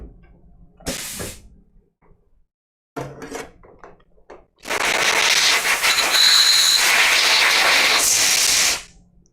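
Coolant sprays onto the workpiece during a chamfering pass on a Titan-2M CNC machine: a loud, steady broadband hiss that runs about four seconds, with brief clatters and a few short bursts before it.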